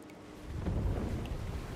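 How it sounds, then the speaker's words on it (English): A last massive wave of water crashes down through a flooded basement in Slay the Princess, a deep rumbling roar that swells after a quieter start and keeps churning steadily to the end. "one last massive wave of water comes crashing down, sweeping you up in a powerful current"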